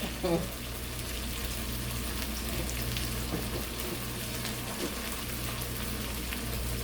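Steady, quiet sizzling of salmon steaks searing in a small frying pan, a soft crackle with a low hum beneath and a brief voice at the start.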